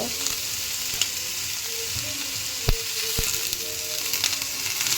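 Tomato and mint fry in a hot pan, a steady close hiss of sizzling oil running throughout, broken by a couple of sharp taps of a utensil against the pan.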